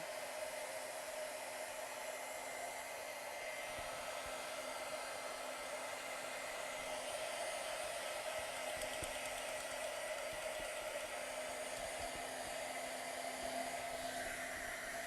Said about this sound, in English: It's way better if you let it dry natural,